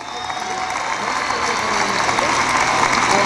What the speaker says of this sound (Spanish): pido un aplauso fuerte para él